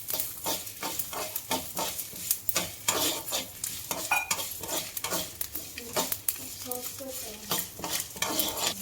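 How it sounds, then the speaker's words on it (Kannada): Dry red chilies sizzle and fry in a pan while being stirred, with steady scraping strokes of a spoon against the metal repeating every half second or so, close and clear, no voices. "ಈಗ ಒಣಮೆಣ್ಸಿನ್ಕಾಯಿ ಎಲ್ಲ ಎಷ್ಟು ಚೆನ್ನಾಗಿ ಫ್ರೈ ಆಗಿದೆ"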